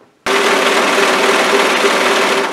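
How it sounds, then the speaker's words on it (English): A sewing machine stitching a dress waistband, starting abruptly and running loud and steady with a continuous motor whir and rapid needle rhythm, no voices. "Try not to stretch your waistband when you're sewing. Just let it slide through the machine."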